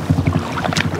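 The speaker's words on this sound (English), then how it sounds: "It's so nice paddling with Nick" A paddle dips and pulls through the water of a Scottish sea loch near Kylesku Bridge from a stand-up paddle board, close splashing strokes mixed with wind buffeting the microphone, with no talking.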